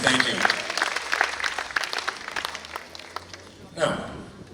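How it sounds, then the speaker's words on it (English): An audience applauds a bass pipe player at a quelbe music performance, a few seconds of steady clapping that thins out, with someone talking over it. "Give him a round of applause"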